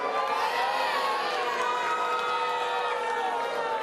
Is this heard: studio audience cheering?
yes